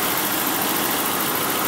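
A 1991 Toyota Crown Royal Saloon G UZS131 engine runs smoothly, giving a steady, even, close hum with no variation across the short stretch.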